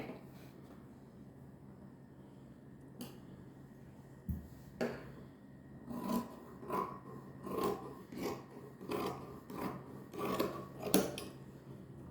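Scissors cut chudidar fabric in a quiet room, first a few isolated snips and then a steady run of crisp, close cuts coming roughly every half second.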